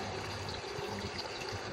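Water steadily filling an aquaponics grow bed fitted with a bell siphon, a continuous, fairly loud trickling rush with no pauses.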